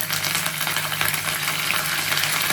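Peanuts and ground masala fry in a pan for mango masala rice, a steady, close sizzle that hisses on evenly without any voices.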